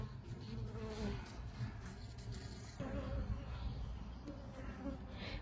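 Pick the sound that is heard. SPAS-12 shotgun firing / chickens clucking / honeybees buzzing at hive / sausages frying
honeybees buzzing at hive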